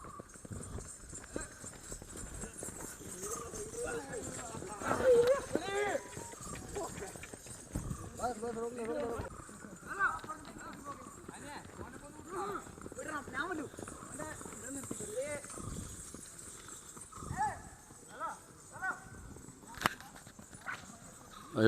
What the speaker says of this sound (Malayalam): അടിപൊളിയായിട്ട് പോകുന്നുണ്ട് കുതിരകളൊക്കെ നല്ല അടിപൊളിയായിട്ടാണ് പോകുന്നുണ്ട്